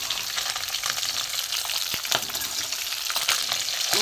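Catla fish heads sizzle and crackle in hot oil, a dense steady frying hiss with scattered sharper pops throughout, close up and without talk.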